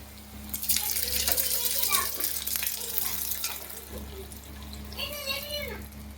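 Liquid pours into a pan while Bengali-style ghugni cooks in oil, a splashing, gurgling flow over a steady background hum, with voices speaking briefly over it.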